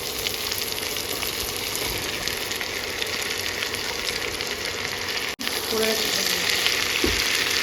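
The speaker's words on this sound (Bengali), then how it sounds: "পেঁয়াজটা যখন এরকম হালকা ভাজা হয়ে যাবে" Constant loud sizzling of onion frying in a pan, a dense crackling hiss that briefly drops out before resuming, with a faint scrape of stirring.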